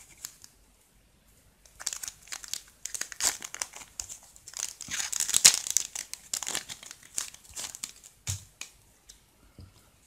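The foil wrapper of a Magic: The Gathering Theros booster pack crinkles and tears as it is opened, close and fairly quiet, in irregular bursts with short pauses, no voices.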